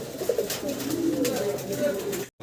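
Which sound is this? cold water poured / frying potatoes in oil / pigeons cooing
pigeons cooing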